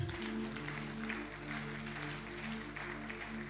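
A church congregation applauds steadily in a dense, continuous clatter of clapping, with a sustained musical tone underneath and no clear speech.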